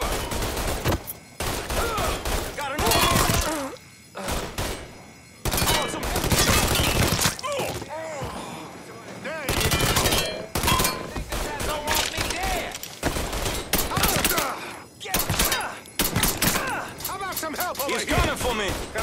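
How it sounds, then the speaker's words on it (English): Heavy gunfire rattles through a Mafia III shootout, loud bursts of rapid automatic shots broken by short pauses, with shouted voices mixed in among the volleys. "Under heavy fucking fire."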